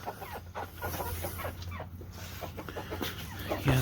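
Backyard chickens cluck steadily at close range while scratching and digging rocks out of garden soil, with continuous soft clucks and low murmurs over a faint outdoor hum.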